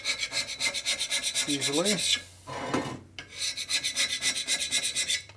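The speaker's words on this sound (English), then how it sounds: "I'm going to take my carbide scraper here and see if the paint will come off" A carbide scraper rasps paint off the flange of a 1965 Harley-Davidson Panhead 74ci FLH engine in steady, rhythmic close strokes, paused briefly by a short spoken word.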